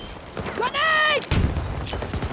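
Gunfire in a Battlefield 2048 video game: a sharp burst of shots crackles after a tonal in-game sound, with further scattered reports and voices calling out over the battle.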